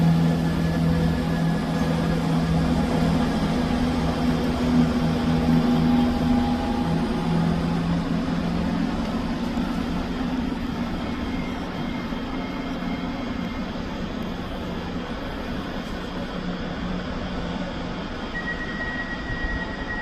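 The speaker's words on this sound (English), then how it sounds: "departing out now is the 12:32 Scotrail service from Cowdenbeath to Edinburgh Waverley" A ScotRail train departs Edinburgh Haymarket station with a sustained low engine drone and a steady, fairly loud rumble that eases slightly over about twenty seconds, with faint tonal whines above it and nobody speaking.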